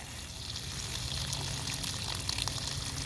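Water spraying from a garden hose through a new Camco hose water filter, a steady hissing rush of flow that swells slightly and keeps running without pause.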